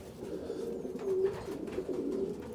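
A male racing pigeon coos in a UK loft with an aviary, giving soft, throaty, repeated low coos close by, with faint rustling in the background.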